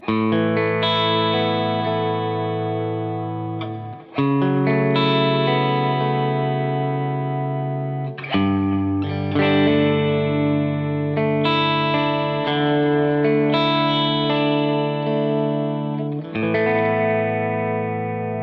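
Overdriven electric guitar chords ring out through an Amplified Nation Overdrive Reverb amp into a 2 Notes Torpedo Studio, struck in a few long sustained hits that decay and are restruck.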